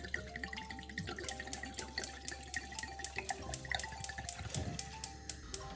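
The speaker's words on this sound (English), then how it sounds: "You start off by pouring the wine in." Red wine poured into a pan to make mulled wine, a steady liquid trickle with faint dripping and splashing throughout, fairly quiet and unaccompanied by talk.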